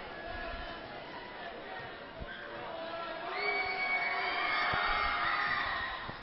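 A high school basketball crowd in a gym roars and cheers to rattle a free throw shooter, a broad wash of noise swelling louder toward the end, with a play-by-play voice over it.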